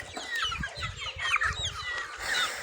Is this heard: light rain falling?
no